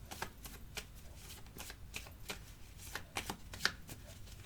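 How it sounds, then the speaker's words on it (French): Tarot cards being shuffled and handled, a quick run of soft riffling flicks and slaps close by, quiet and unhurried with no talking. "on va quand même recouvrir certaines petites cartes"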